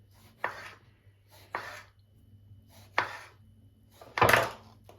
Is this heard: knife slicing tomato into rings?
yes